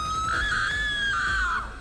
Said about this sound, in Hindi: ये सब देखकर प्रिया जोर से चिल्लाती है,